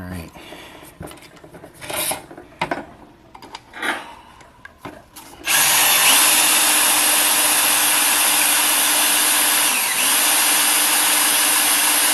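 Power drill boring a hole through a 1932 dash panel for gauges. A few scrapes and handling taps come first, then a loud, steady whine runs on for several seconds.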